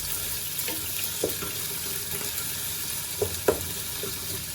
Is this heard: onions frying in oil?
yes